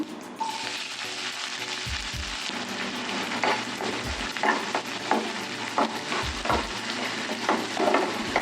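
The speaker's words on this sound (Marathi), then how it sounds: "आता तेल गरम झाले, त्याच्यात आपण राई अर्धा चमच, जिरे अर्धा चमच, इथे कांदे घेतले 2 मोठे बारीक कापून" Chopped onions frying and sizzling in hot oil with mustard seeds and cumin, a steady close crackling hiss with occasional stirring scrapes and spoon knocks, no talk.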